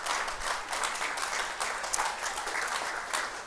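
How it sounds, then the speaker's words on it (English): Audience applause at a city's State of the City event, a steady, moderately loud patter of many hands clapping through the whole few seconds with no talk. "stand up so we can give you a round of applause"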